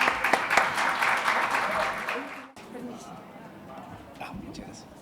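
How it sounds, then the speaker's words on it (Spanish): Audience applause at a conference session of the Congreso de Vinculación con el Medio 2020, welcoming two presenters to the stage. A dense, full burst of clapping fills the first half, then drops away abruptly to a quieter room with scattered sounds. "recibimos con un gran aplauso, a Miguel y a David."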